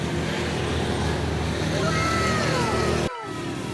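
A KPV 150 motorcycle engine runs steadily up close, a loud continuous idle with a slight rise in revs before the sound drops off abruptly near the end.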